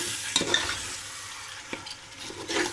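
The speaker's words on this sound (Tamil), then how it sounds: "இதை நல்லா கிளறி விட்டுக்கலாம்" Marinated chicken being stirred in a biryani pot, a few soft scraping strokes and light clinks over a low background sizzle, fairly quiet and close.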